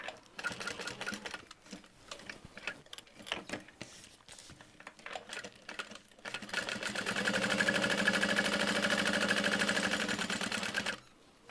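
A sewing machine stitches along the top of a handbag in uneven bursts, then settles into a steady, loud run of rapid stitching before stopping; close and alone with no talking.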